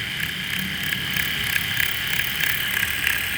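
An RC car tire spinning on a truing machine that grinds the glued tire back down to size, a steady whirring hiss with a faint rhythmic ticking, close and alone.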